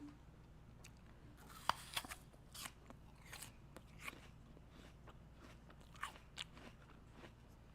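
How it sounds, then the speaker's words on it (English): Close, crisp bites and crunches into an apple, a few sharp snaps followed by irregular crunchy chewing over a quiet background, with no speech. "the crunch of the apple is classic"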